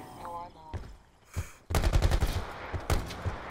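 Gunfire in the video game Call of Duty Black Ops 4: rapid bursts of automatic fire crackle loudly over the second half, with a voice heard briefly before the shooting starts.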